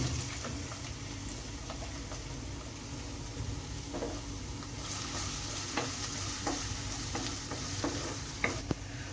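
Finely chopped ginger sizzles steadily in hot oil for a mutton fry, a continuous broadband crackle with occasional soft stirring clicks and a sharper tap near the end, no voices.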